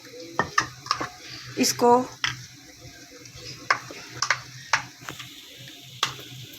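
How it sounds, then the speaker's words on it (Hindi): A spoon works chicken marinade and potato pieces together in a metal pot for chicken dum biryani, giving close, scattered clinks and wet scrapes with quiet gaps and a brief vocal sound midway. "अब इसको मैं अच्छे से मिक्स करूंगी, और ये जो हमारे आलू हैं ये भी मैं इसमें डाल के"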